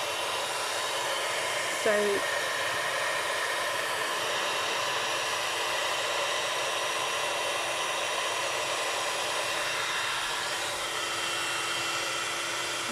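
A heat embossing tool blows hot air over embossing powder on a stamped card, a steady loud whooshing roar that runs the whole time, with a brief spoken word near the start.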